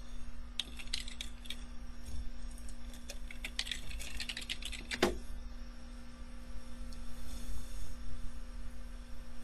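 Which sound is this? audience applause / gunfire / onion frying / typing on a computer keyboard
typing on a computer keyboard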